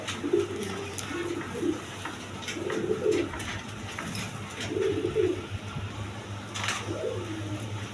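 Several soft, repeated coos from a pair of pigeons offered for sale, sounding close and steady in a bird market, with brief gaps between calls and no talk over them.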